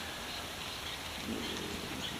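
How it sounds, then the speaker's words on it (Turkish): A sudden rain shower during a bicycle trip in South America, heard as a steady, fairly faint hiss of rainfall that thickens slightly partway through, with no talking. "yaklaşık bir, bir dakika içinde bu şekilde yağıyor yani. Sağnağa geçiyor."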